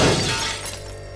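Glass of a vending machine smashed in a horror video game, a loud, close shattering crash that rings out and then fades into a decaying tail.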